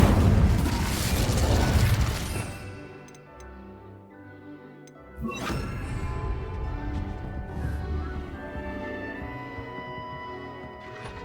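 In Hogwarts Legacy, a spell bursts with a loud roaring whoosh, fades into a ticking lull, then a second sharp blast flares and rumbles on with crackling fiery noise.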